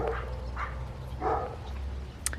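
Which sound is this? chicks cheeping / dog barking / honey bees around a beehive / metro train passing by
dog barking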